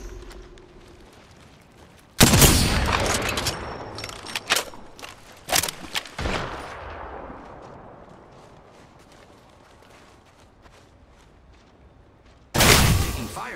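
Gunfire in a battle royale video game: loud bursts of shots erupt repeatedly, with a crackling barrage early on, scattered sharp reports trailing off, and another loud burst near the end, mixed with game effects.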